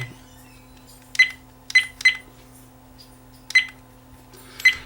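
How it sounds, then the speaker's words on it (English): Short electronic button-press beeps from a VIOFO A129 Pro Duo dashcam sound one at a time at uneven intervals, about six in all, over a low steady hum. "The beep sound, you can have all on, startup sound only or button press."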